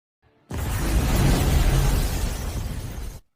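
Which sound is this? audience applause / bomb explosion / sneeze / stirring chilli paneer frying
bomb explosion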